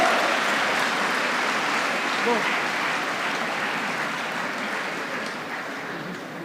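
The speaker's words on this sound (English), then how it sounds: "Let's give them a huge round of applause." At a university convocation, a large audience claps for rank holders, a broad, steady wash of applause that starts strong and gradually fades over several seconds, with a faint voice underneath.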